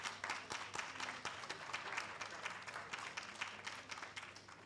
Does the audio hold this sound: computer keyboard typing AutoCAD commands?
no